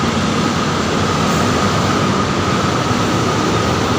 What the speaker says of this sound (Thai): ก็มีรถไฟฟ้า MRT เดินผ่าน